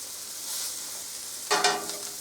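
Liver cooking in a pan alongside bacon gives a soft, steady sizzle, with a brief louder burst of crackling spatter partway through.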